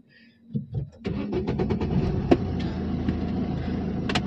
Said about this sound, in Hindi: एक बार गाड़ी स्टार्ट करो अपने।